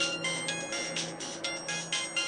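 A mobile phone ringtone chimes in a quick, repeating pattern of bright tones at moderate volume, with no voices over it.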